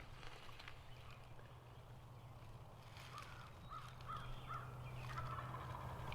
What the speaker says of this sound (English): Sounds like there's birds in the field.